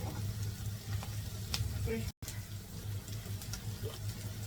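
Tomato sauce goes into a hot frying pan, producing a soft continuous sizzle with a low steady hum beneath and a brief dropout midway.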